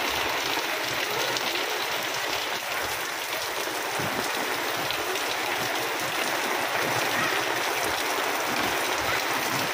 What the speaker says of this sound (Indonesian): nah ini alhamdulillah turun hujan ya teman-teman di kota Bekasi